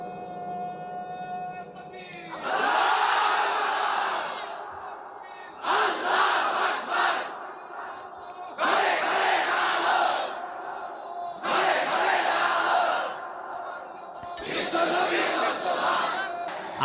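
A large crowd roars takbir in repeated bursts, five loud collective shouts separated by brief pauses, a lone voice leading in between.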